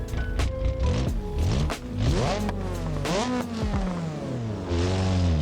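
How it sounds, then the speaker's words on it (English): A drift car built in BeamNG's RLS career mode revs its exhaust hard, with repeated rising and falling engine sweeps and sharp chopping cutoffs, loud and close throughout. "this exhaust should sound a lot better as well"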